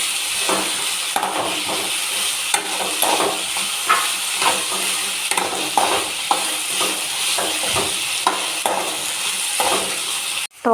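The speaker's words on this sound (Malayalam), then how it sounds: "ഇത് നല്ലപോലെ ഒന്ന് വഴറ്റിയെടുക്കട്ടെ." Green masala and green chilli sautéing for a thoran, a dense continuous sizzle and hiss with rhythmic scrapes of a spoon stirring in the pan, close and steady.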